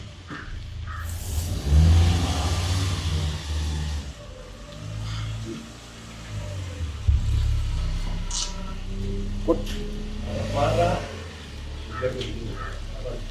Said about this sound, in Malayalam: സ്കൂട്ടിയാ